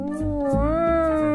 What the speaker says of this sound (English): Jin, Soft's groaning, so I guess she's alive